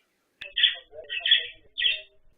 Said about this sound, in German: Am häufigsten hören wir sicherlich die durchdringenden Kontaktrufe.